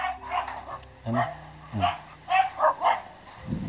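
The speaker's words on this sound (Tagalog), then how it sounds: "May aso" A dog barks and yips several times in a rural yard near banana plants, with short, fairly close barks spaced out under someone speaking.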